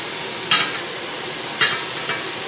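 Onions frying in a hot pan while cooking black sea bass, a close, even sizzle with two brief louder spatters or stirs.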